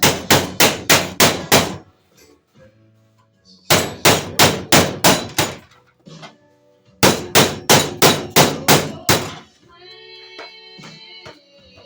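A hammer pounds a metal floor repair patch in three quick bursts of about six sharp, ringing blows each, loud and close, with quiet pauses and faint metallic clatter between the bursts.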